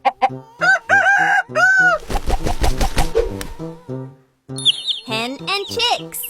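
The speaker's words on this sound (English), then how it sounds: "Rooster." A rooster crows loudly several times among short clucking calls from farm fowl, with chirpy bird sounds and voice-like tones mixed in.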